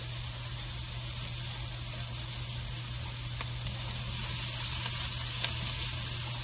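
Onion sizzles in a pan for Appalachian-style chili, a continuous close frying hiss with a low steady hum underneath and a few soft clicks of stirring.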